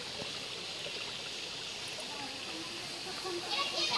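Water from a village spring runs out of a pipe in a constant hissing, rushing stream, heard up close and steady with a slight swell at the end.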